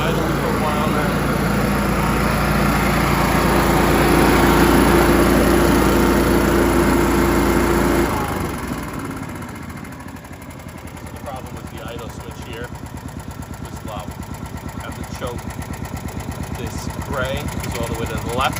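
A Honda small engine idles with a loud, steady drone that abruptly drops to a quieter, lower running hum. Someone talks over it.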